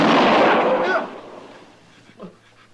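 A single gunshot sound effect in a radio western drama, a loud booming blast at the start that rolls away over about a second, followed by a quiet tail and a faint voice.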